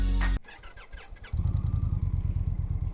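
A 2025 Indian Challenger motorcycle engine cranks briefly, then catches and settles into a loud, throaty idle with a steady rapid pulse, close by.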